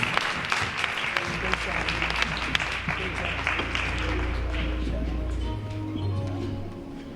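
An audience applauds continuously with sharp, scattered claps at a Black History Month celebration, while a low hum runs underneath and voices are faintly mixed in.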